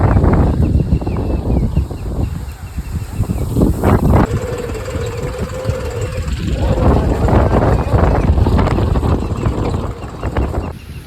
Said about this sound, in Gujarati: જોઈ લો કેવી વાવળ આવી છે